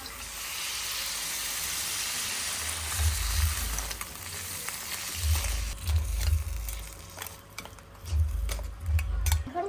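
Water poured into a pan of frying potato and pumpkin, the hot oil hissing and spitting, then a few clusters of stirring knocks as the sizzle gradually settles.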